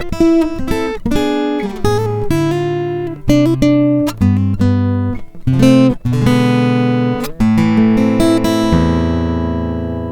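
An electric guitar plays a phrase with a vaguely Spanish flavor: fast plucked runs and arpeggiated chords with bright, dense harmonics, ending on a ringing sustained chord. It is loud and close, with no talking.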